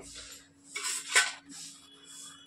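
A large metal kadai is set down on a stove in a home kitchen, making a single faint clank amid quiet, light clattering of cookware.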